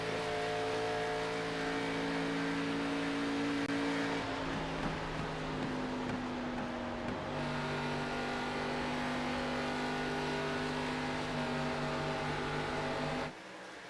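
Engines of ARCA stock cars in an iOS racing game hum as a steady, droning pack, with the pitch shifting in steps as gears change, continuous and fairly quiet until an abrupt cut near the end.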